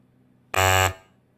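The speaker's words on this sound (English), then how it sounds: "I should have got my buzzer out for this" A quiz buzzer gives one loud, harsh electronic blast lasting about a third of a second, then cuts off in an otherwise quiet room.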